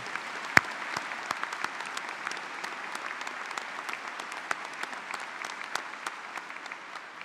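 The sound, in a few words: audience applause for veteran graduates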